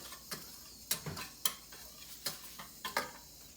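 A spoon stirs chili flakes and cornstarch together in a bowl to coat cod for frying, making a steady series of light scraping taps and clinks against the dish, close and fairly quiet with no talking.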